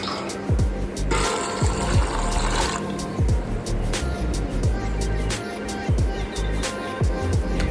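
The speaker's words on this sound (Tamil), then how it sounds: "இப்போ 2 கப் பாஸ்தாவுக்கு 2லேருந்து 3 டம்ளர் தண்ணி ஊற்றிக்கலாம்" Water pours into a pot to boil about two cups of pasta at home, a near gushing fill broken by repeated clinks and clatters, with a brief louder splash early on.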